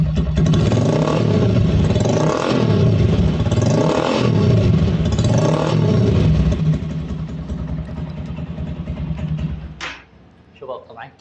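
A 200cc motorcycle with a loud, boosted exhaust silencer revving hard in repeated surges up to third gear, close and very loud, then dropping to a rough idle before a clunk at the end.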